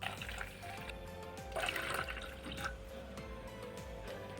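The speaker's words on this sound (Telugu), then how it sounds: "1 కప్పు రవ్వకి 2 కప్పుల వరకు వాటర్ పోసుకోవాలండి." Water, about two cups for one cup of semolina, is poured into a pot on the stove, giving a faint continuous trickling and splashing with a few brighter drips, quiet and close.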